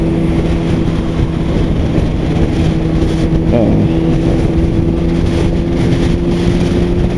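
Big semi trucks rumble past on a road with a steady low drone, heard from a rider's position amid constant wind buffeting at the microphone.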